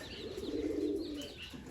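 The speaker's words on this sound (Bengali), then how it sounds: "কবুতর খোপে যাওয়ার জন্য সিরিয়াল দিয়ে এভাবে বসে আছে" Domestic pigeons perched outside their village loft at dusk give soft, low cooing that is faint and close. No one speaks.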